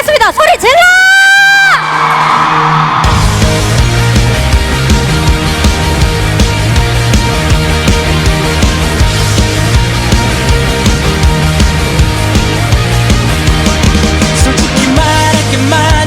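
Loud crowd of new university students at an Ewha welcome event cheering and screaming over pounding live music, sustained and dense throughout after a brief whistle-like rising sweep at the start.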